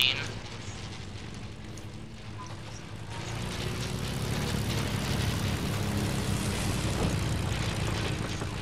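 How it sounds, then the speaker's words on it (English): An enemy airplane in the Fortnite battle royale game drones overhead as a steady, swelling propeller roar that grows louder halfway through and holds at a constant, fairly loud level. "Enemy plane."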